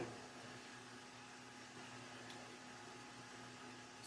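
An electric fan runs alongside a resin curing machine, a steady low hum with a constant airy whir, faint and unchanging throughout.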